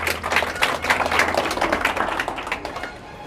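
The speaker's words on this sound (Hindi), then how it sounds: "जोरदार ताली, 100 में 67।" Classroom applause for a student's quiz result, a group of students clapping in a quick, uneven patter that swells and then fades out near the end.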